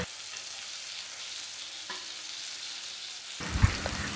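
Onions and chopped tomato fry in coconut oil in a pan for a Kerala-style pea curry, a steady close sizzle that stays even, then grows louder and busier with a sharp clunk of stirring near the end.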